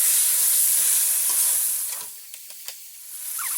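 Ground masala paste for chicken biryani sizzles and fries in a pan while being stirred, a steady close hiss with a few soft scrapes of the spoon and no talking.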